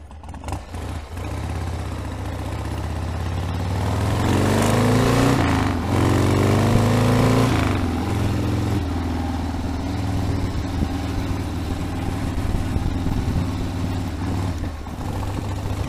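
A 1979 Harley-Davidson Ironhead Sportster with a 4-speed gearbox, idling lumpily at low speed, then revving up loudly in a rising, uneven burst before settling back to a rough, close idle.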